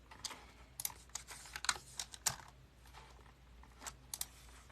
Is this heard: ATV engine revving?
no